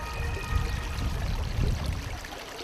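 Water flows and trickles in a steady, moderately loud rush with soft gurgling swells, close by and without talk.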